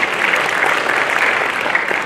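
Audience applause at the closing ceremony of a human rights festival, honoring the city of Bitung: a steady, dense wash of many hands clapping at once, loud and continuous throughout with no voices on top.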